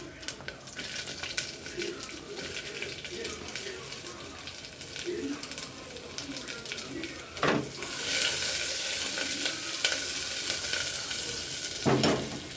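Steady sizzling of small onions frying in oil for sambar fills the scene, with a couple of sharp clinks and a louder hiss toward the end.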